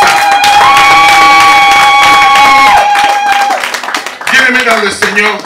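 A church congregation cheers and claps in acclamation of God, a loud crowd roar with sustained shouts and applause that dips briefly and then surges again.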